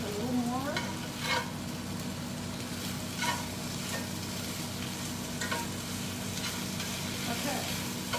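A chicken stir-fry sizzles steadily in a pan, with a constant frying hiss and occasional clinks and scrapes of stirring throughout.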